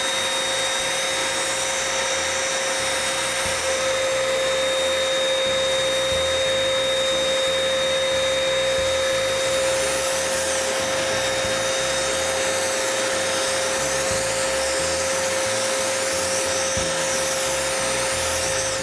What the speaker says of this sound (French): Et c'est parti pour la vaporisation.